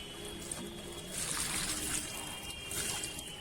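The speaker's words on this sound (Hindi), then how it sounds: "उसके बाद इसमें पानी डाल दूंगी।" Water poured from a container into the soil of a potted lemon plant, a steady close splashing trickle with a couple of louder surges.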